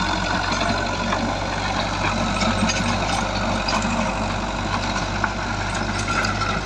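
A tractor runs a rotavator while preparing farmland for cotton sowing, giving a steady, loud engine drone with continuous churning noise and no clear breaks throughout.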